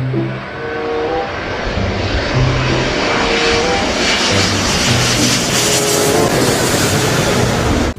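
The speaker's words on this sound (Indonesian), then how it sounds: "Ini pesawat terbang" A loud, steady airplane engine drone holds at close range for the full eight seconds, with a broad roar and faint tonal hum that rises slightly in pitch toward the end, and no voices.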